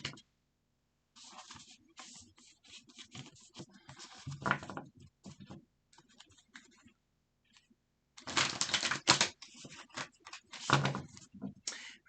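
A deck of tarot cards is riffled and shuffled up close, with intermittent soft crackling flurries and one long dense stretch of shuffling toward the end, separated by brief quiet gaps.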